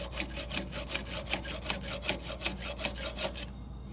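A chainsaw chain is sharpened with a hand file. Close, rhythmic rasping strokes repeat about three per second for several seconds, then stop abruptly near the end.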